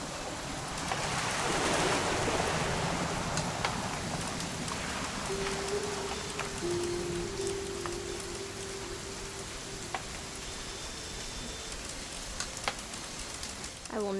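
Steady rain in the video game What Remains of Edith Finch hisses throughout, with scattered drip-like clicks and a faint low tone partway through.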